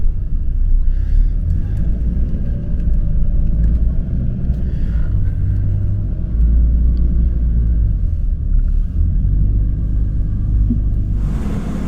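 A car on a 4WD track in the New England Tablelands of NSW, driven by a provisional-licence driver, with a steady low engine rumble and rough road noise that hold close and loud throughout.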